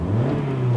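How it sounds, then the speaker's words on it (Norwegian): A car engine revs steadily as the gas pedal is pressed, a close, loud, sustained low drone held for under a second with no talk over it. "Trykk på gassen. Trykk på gassen."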